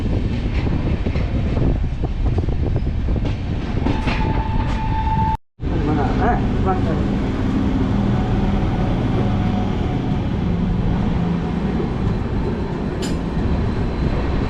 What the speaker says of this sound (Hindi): और हमारी ट्रेन ने एक्सलरेट करना स्टार्ट कर दिया है।